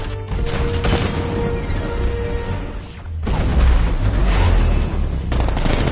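A 60mm tank cannon fires in a Batman video game, with dense, loud booms and rattling gunfire across the scene, a brief lull near the middle, then heavier low blasts resuming.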